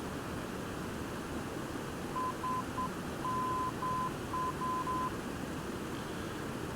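Morse code station identifier of the SNS VOR navigation beacon, heard over an aircraft radio in the X-Plane 11 flight simulator: a thin, steady tone keyed in short and long beeps, repeating under a constant hiss of engine and wind noise.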